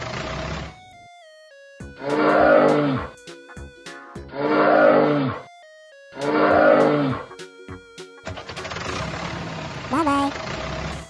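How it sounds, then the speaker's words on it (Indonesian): A cartoon bear lets out three drawn-out, rumbling roars, evenly spaced with short pauses, set against a light animated music background in a children's animal-sounds show, ending in a brief musical flourish. "Bear."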